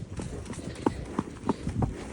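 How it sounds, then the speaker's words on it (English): Hooves of horses galloping alongside a strong horse named Duke thud and clop in a loose, uneven rhythm, several distinct strikes standing out from a rumbling outdoor background at moderate distance. "Do you see the horses galloping up alongside?"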